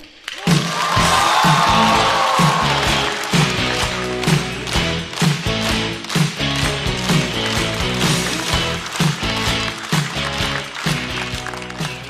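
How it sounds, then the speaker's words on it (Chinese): Loud, sustained applause and cheering from a studio audience welcome comedian Wang Ying onto a stand-up comedy stage, with a steady pulse running through the crowd noise for the whole stretch. "掌声欢迎王颖"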